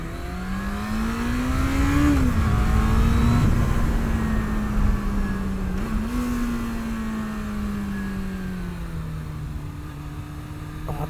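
A 1996 Yamaha YZF600R Thundercat motorcycle engine drones steadily while riding, its pitch climbing, dipping and settling as the revs change, loud and continuous with no talk over it.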